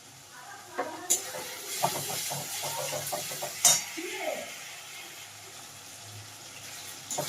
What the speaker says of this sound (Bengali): তো আদা বাটা দেওয়ার পরে কিছুক্ষণ কষিয়ে নিয়েছি।